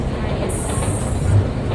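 A toy train rumbles along its track in a kids' park in Bengaluru, a steady nearby rolling noise with a brief high squeal partway through.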